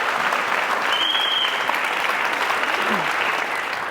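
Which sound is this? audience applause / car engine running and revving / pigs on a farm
audience applause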